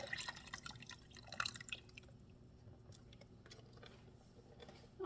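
Chicken broth is poured into a soup pot of drumsticks with a soft, trickling splash that fades into faint drips and small kitchen noises, quiet and close.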